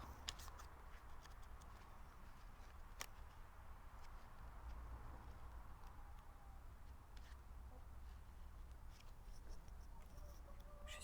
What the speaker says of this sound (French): entourée de poules, je ne sais pas si vous les entendez